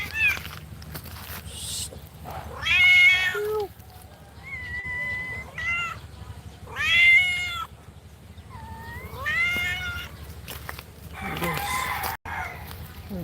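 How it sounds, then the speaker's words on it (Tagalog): Stray cats meow repeatedly in a series of clear, rising and falling calls at close range, with several cries spread across the stretch and some soft background noise between them. "Meow. Meow. Isang pusa."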